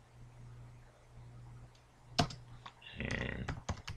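Computer keyboard typing a command on an Ubuntu server, a sharp keystroke followed after a pause by a quick burst of clicks, close-up, with a brief spoken word.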